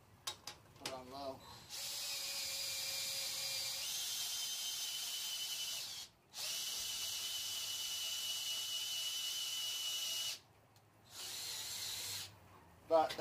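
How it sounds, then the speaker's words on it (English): A power drill driving a worm winch lifting roughly 1,000 pounds whines steadily at high speed, cutting out briefly twice, with short bursts of mechanical clatter and a voice at the start. "That's the drill on high. Put it on low."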